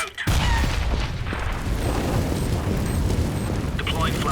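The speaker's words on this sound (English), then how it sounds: "I am throwing a grenade." A grenade blasts in a CS:GO match at the DreamHack Winter 2014 quarterfinal between HellRaisers and NiP: a sudden heavy boom, then a sustained low rumble with scattered crackles under game noise and faint voices.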